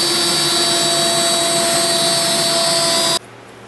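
A power router whines loudly and steadily while cutting a flute into a wooden column, then cuts off abruptly near the end and leaves a low residual hum.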